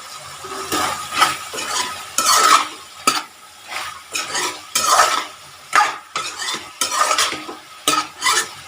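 Small pieces of coconut being stirred into chicken frying in a pan, with a spoon scraping and clinking against the pan in irregular strokes over a steady sizzle, close and fairly loud.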